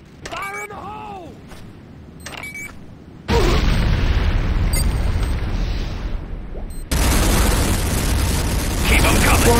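C4 explosive detonates in the Command & Conquer game Renegade. After some quieter game sounds, a loud, roaring blast hits and rumbles on, then a second surge of explosive noise follows. Game voice effects are mixed in.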